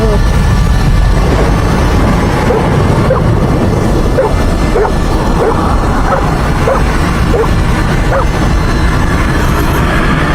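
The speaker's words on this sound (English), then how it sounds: "As Homer barks at them in the background" A dog barks repeatedly in the background, a string of short yips and barks buried under a loud, dense wash of constant noise.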